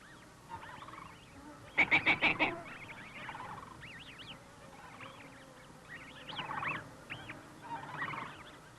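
A covey of willow ptarmigan on thawing tundra calls in a rapid burst of harsh, stuttering cackles near the start, followed by scattered nasal bird calls and honks through the rest, moderately close in the open air.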